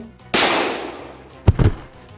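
Sharp gunshot from a pistol in a 1940s-style audio drama, one loud crack with a long ringing decay, followed by a body thudding to the floor.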